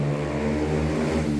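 A deep, rumbling car exhaust idles and revs loudly nearby, a throaty low drone with slight surges.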